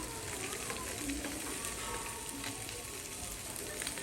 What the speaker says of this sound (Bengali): আমার মাছটা একদম সম্পূর্ণ ভাজা হয়ে গেছে